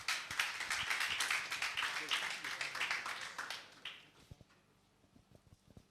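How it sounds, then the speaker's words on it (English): Applause from a tech conference audience at DevFest Owerri, loud and steady for about four seconds before thinning to scattered claps and quiet room noise. "A round of applause, please."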